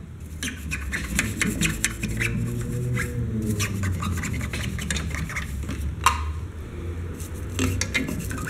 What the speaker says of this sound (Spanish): Vamos a agarrar un escobillón.